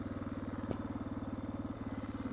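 A Suzuki DR650 motorcycle engine idles close by with a steady, loping thump, each beat distinct and regular throughout, with a brief faint click partway through.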